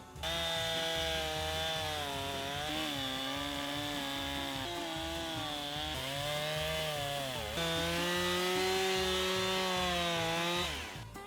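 A chainsaw runs steadily at high revs while cutting a wood log in half for a chainsaw-carved chair, the engine pitch sagging and recovering under load, loud and close for about ten seconds with no talk.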